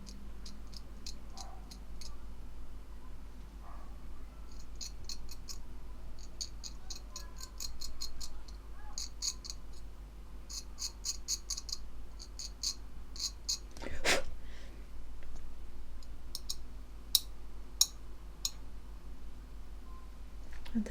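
A hobby blade shaves a plastic model part at a shallow angle, making rapid runs of tiny crisp ticking scrapes close up, in repeated bursts over a quiet background hum.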